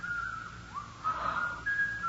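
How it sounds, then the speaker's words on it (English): An eerie, wavering whistle drifts on a single thin tone in a radio drama setting, faint and alone over a low hum. "There's that whistling again."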